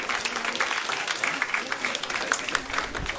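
An outdoor crowd applauding at a horse festival ceremony, steady continuous clapping at moderate loudness with a faint voice underneath.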